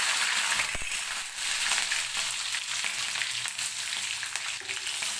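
Crushed garlic and a few cut green chilies frying in hot oil while cooking okra, a steady close hiss of sizzling with a couple of sharp clinks early on, no voices.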